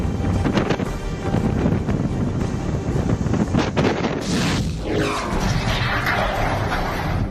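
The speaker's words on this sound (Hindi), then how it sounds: "गुजरात के जामनगर में तेज हवाएं चल रही हैं" Strong winds of Cyclone Biparjoy roar through Jamnagar, Gujarat, a loud continuous buffeting rush with heavy gusts battering the microphone throughout.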